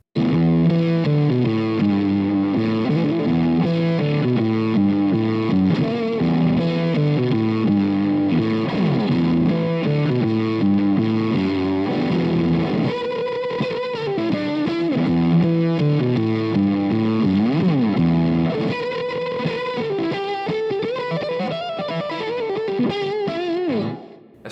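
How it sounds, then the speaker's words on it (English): Electric guitar played through a novelty fly-shaped fuzz pedal, producing thick, saturated fuzz tones in steady riffs and sustained chords, loud and continuous with no talking. "it's actually a great sounding fuzz pedal"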